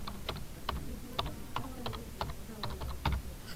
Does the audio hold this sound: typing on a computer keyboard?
yes